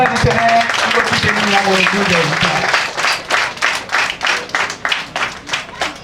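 An audience at a ceremony breaks into applause, starting under a speaking voice and then a crowd of hands clapping loudly, settling into rhythmic, pulsing group claps toward the end.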